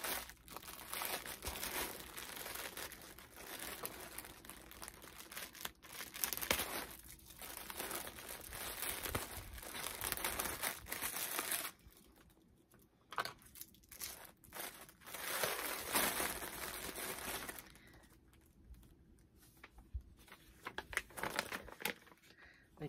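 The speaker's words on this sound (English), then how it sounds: "Sorry for all the crinkles" Plastic mystery yarn bag crinkling and rustling nearly throughout as it is handled and opened, loud and close, with brief quieter gaps, and a voice speaking intermittently over it.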